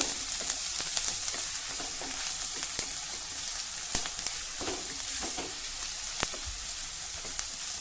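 Onion sizzles in a hot pan with coarsely crushed ginger and garlic, a steady frying hiss broken by sharp crackles and pops and occasional stirring scrapes.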